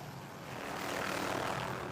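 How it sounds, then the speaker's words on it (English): A medevac helicopter landing nearby at Nellis Air Force Base gives a faint, distant rotor and engine drone that swells slightly over two seconds, with no speech. "a medevac helicopter landing nearby"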